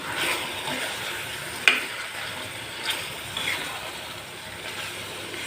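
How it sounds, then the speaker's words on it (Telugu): Chicken liver fries with pepper powder and garam masala in a soft, steady sizzle, with a few light clinks and scrapes as the mixture is stirred; no voices. "ఒక స్పూన్ మిరియాల పొడి హాఫ్ స్పూన్ గరం మసాలా వీటన్నిటిని బాగా కలిసే వరకు వేయించుకుందాం"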